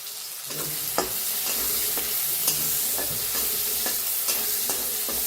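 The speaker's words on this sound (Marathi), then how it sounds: "एक कांदा कापून घेतलाय तिथे टाकूया लसूण चेचून घेतलाय ते बी टाकूया आणि छान दोन्ही भाजून घेऊया" Chopped onion and crushed garlic fry in a pan for a village-style cluster bean dish, a steady close sizzle broken by regular stirring scrapes about every half second, with no talking.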